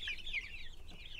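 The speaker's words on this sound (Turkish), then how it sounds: "Daha bunlar civcivler yani." Young broiler chicks, meat chickens about 45 days old, cluck and peep in a coop: a cluster of soft, high chirping calls over a low background hum, with no voices.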